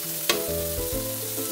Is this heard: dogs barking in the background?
no